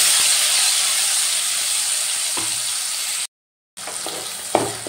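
A tomato and ginger paste fries in a pan with a loud, continuous hiss and sizzle, cut by a brief silence, then resuming with a few light stirring knocks.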